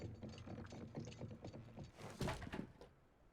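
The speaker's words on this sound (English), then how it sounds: "He still feels a little bit more like a cage than an elevator" A cage elevator in the video game Ghost of a Tale grinds upward with a steady mechanical clatter of ratcheting gears and wooden knocks, ending in a louder thunk and rattle as it moves, with no talking.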